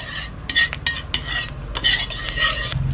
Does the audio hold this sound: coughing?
no